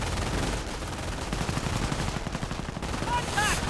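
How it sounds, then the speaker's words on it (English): Machine gun bursts and scattered gunfire rattle through a war strategy game battle, dense rapid shots continuing steadily with a few higher tonal effects near the end. "Heavy firing right here. MG opening up somewhere."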